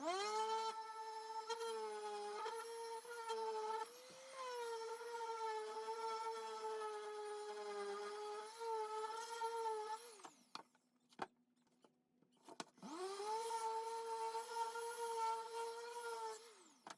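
A small rotary power tool sanding traced pen marks off the carved surface of a pumpkin jack-o'-lantern, a steady high whine that dips briefly, cuts out near the end for a short pause, then spins back up, close and loud.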